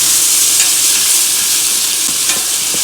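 Tomatoes drop into a hot pot of sizzling oil for Haitian salmon fish head bouyon, giving a loud, continuous frying hiss with a few soft stirring clatters.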